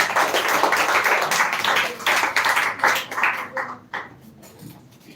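An audience at a speech competition grand finale claps as a speaker is called up, dense applause from many hands that thins and fades toward the end, leaving a few scattered claps.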